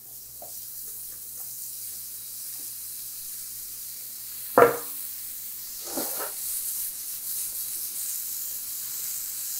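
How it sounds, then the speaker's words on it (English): Mushrooms and tofu frying on a smoking hot sheet tray give a soft, steady sizzle and hiss, with a couple of sharper crackling spurts partway through. "Do you hear the sound of happily crisping and frying and ready to roast mushrooms?"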